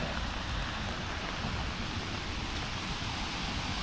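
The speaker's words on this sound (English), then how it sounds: "I wish it would stop raining." Rain falls steadily outdoors during floods in China, a dense, even hiss of drops with no breaks, fairly soft and constant throughout, with no voices.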